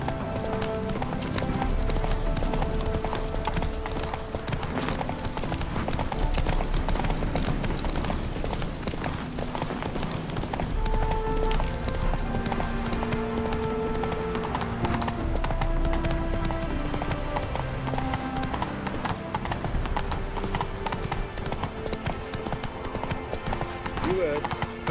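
Roach, the horse in The Witcher 3, gallops in a steady, rhythmic clip-clop of hooves under game music and voices talking, going on throughout.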